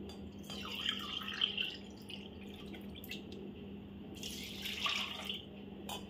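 Water saved from soaking dal, being measured and poured into a pot for puran poli, heard as faint trickling and dripping splashes in short bursts against a quiet kitchen background; no talk.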